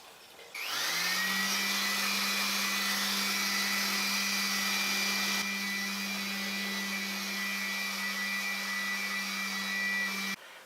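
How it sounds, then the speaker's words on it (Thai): A hair dryer blows steadily to dry a freshly washed home air conditioner coil, a loud, continuous whining hum that starts abruptly, holds for about ten seconds, then cuts off, with no talk. "หลังจากที่เราล้างเสร็จนะครับเราใช้ไดร์เป่านะครับ"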